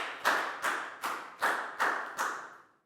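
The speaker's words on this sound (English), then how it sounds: "Big round of applause for Q" A Year 4 class applauds a classmate in a science lesson with six slow, evenly spaced, fairly soft group claps, each one ringing out briefly in the room before the next.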